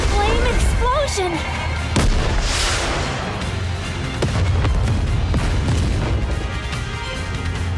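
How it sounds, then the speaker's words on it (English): A rocket launcher explosion in the video game NIKKE: heavy booming blasts and continuous battle rumble, loud and dense throughout, with sharp bursts layered over a sustained roar. "What an explosion!"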